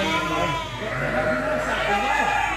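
Sheep bleat on a farm, a steady stream of wavering calls that overlap under continuous background noise, with people talking alongside.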